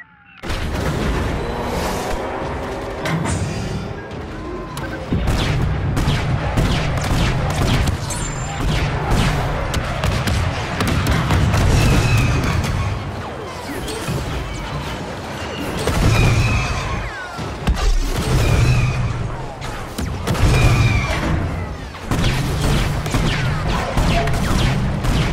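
Rocket blasts and blaster gunfire rage on a Star Wars Battlefront II battlefield, a dense, loud, continuous barrage of booms, crashes and rapid shots with no pause.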